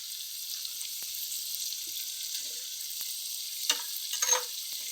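Ginger and garlic frying with chopped vegetables in a pan for vegetable pulao, a steady soft sizzle with a few light stirring clicks and scrapes, closer bursts of stirring toward the end.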